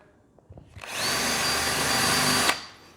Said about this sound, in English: Pull that out, go back to your drill bit. That is some sturdy material, I can tell you, because it's making the bit extremely hot